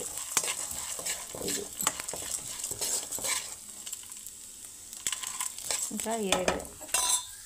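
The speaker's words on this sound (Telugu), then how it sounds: "ఇవన్నీ మంచిగా కలదిప్పుకోవాలి. ఇలా వేపుకోవాలి." Ingredients frying in oil are stirred with a utensil, giving repeated scraping and clinking strokes against the pan over a soft sizzle, with a few spoken words in between.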